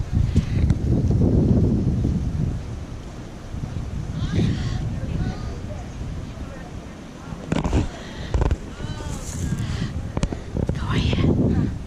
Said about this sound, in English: The wind's blowing so much.